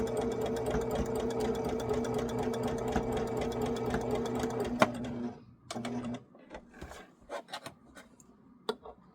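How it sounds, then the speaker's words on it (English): Sewing machine stitching a St Patrick's Day shamrock table runner from corner to corner: a steady, loud mechanical whir with a rapid needle rhythm that stops about halfway through, then scattered handling clicks and rustles. "I'm going to sew corner to corner"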